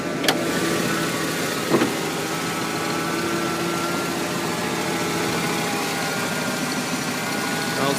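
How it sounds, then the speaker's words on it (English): A 1994 Ford Bronco Eddie Bauer engine idles steadily with the hood open, a thin constant whine from the power steering riding above the low rumble, close and continuous with no talk. "That whine you hear is just a typical power steering whine in these Fords"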